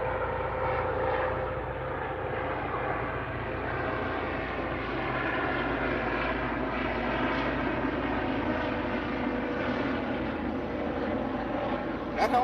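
A helicopter passes overhead near a catfishing spot in the Missouri Ozarks, a loud, steady rotor-and-engine drone that fills the whole stretch and sounds somewhat rough, with no talk heard.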